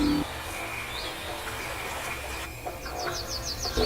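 Weaver birds in a dry, harsh desert setting give thin high chirps, including a quick run of repeated notes near the end, faint against a dense, noisy background.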